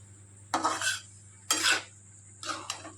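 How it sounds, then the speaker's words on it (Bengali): A spoon scrapes and clatters in a pan three times while boiled peas and potatoes are stirred into cooked-down spices for vegetarian ghugni, each burst short and close over a steady low background hum. "এবারে সুন্দর করে নাড়াচাড়া করা হচ্ছে, সমস্ত মশলার সঙ্গে মেশানো হচ্ছে, কষানো হচ্ছে"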